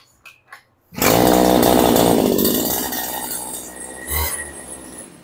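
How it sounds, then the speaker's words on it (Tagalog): A CG411 heavy-duty grass cutter's small engine starts up loud and close, a steady high-revving drone with a brief surge near the end, after a few faint knocks. "Heavy duty na po yan, Ang grass cutter natin dito"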